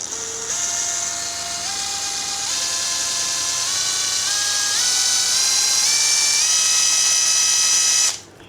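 An OSUKA OCID822U cordless impact screwdriver runs free, its steady, close electric motor whine climbing in pitch in small steps before it cuts off abruptly near the end.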